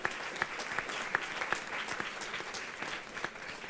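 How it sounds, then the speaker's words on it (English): An audience at a climate and human rights conference claps steadily, with sharp louder claps standing out at regular intervals. "Can we get a round of applause for that,"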